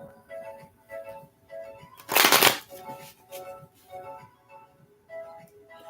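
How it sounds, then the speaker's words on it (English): A quick, loud riffle of tarot cards being shuffled in the middle, surrounded by softer handling and faint voice-like sounds. "So let me shuffle."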